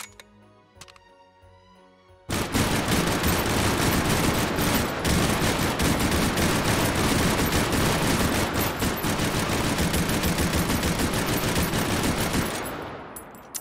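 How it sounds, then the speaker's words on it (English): Lewis gun firing in the VR shooter Hot Dogs, Horseshoes & Hand Grenades: after a quiet opening, one loud, unbroken burst of rapid automatic fire runs about ten seconds, then cuts off and fades. "That's the Lewis gun that we had to cut short yesterday"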